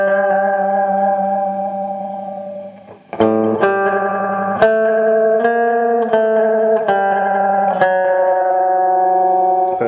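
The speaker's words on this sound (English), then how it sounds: "can hear the note starting to flutter" Electric guitar with a JB pickup through an MI Effects lo-fi delay pedal, in a heavy metal setting: sustained notes that waver and flutter, with a few fresh picked notes ringing on, loud and alone without talk.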